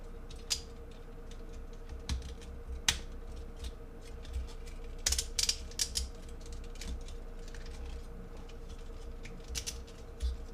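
Joints of a plastic Transformers FPJ figure are twisted and rotated, producing a steady patter of small, close clicks and sharper snaps scattered irregularly over about ten seconds.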